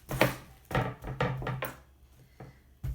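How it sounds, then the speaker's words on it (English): A knife chops fresh cabbage into bite-sized pieces on a wooden cutting board for kimchi, with about six firm, close thunks at an uneven pace and short gaps between them. "I'm going to take this cabbage and I'm going to chop it into bite-sized pieces"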